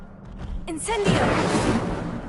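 An Incendio fire spell cast in a Hogwarts wizarding game bursts out as a sudden loud whoosh, a rushing roar of flame that holds steady and fills the rest of the moment.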